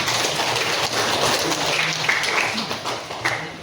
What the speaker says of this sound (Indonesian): Kita kasih tepuk tangan pada temannya